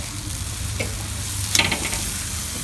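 Food sizzles steadily on a barbecue grill as pieces are flipped, a continuous close frying hiss with a brief scraping clatter of the turn in the middle.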